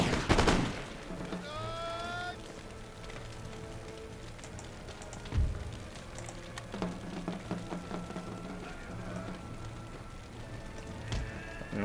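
Musket infantry firing by rank in Empire Total War, with a loud opening volley followed by scattered crackling shots and further volleys over a continuous battlefield din.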